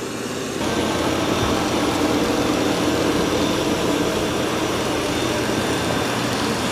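An Ecovacs Deebot X2 Omni robot vacuum mops the floor with a steady broadband whooshing hum. The noise starts up suddenly after a quieter moment and then holds constant and fairly loud.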